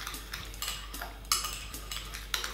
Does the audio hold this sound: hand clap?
no